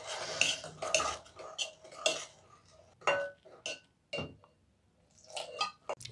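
Spoon stirring semolina with water in a bowl, giving close, irregular scraping clinks in short bursts with brief pauses between them.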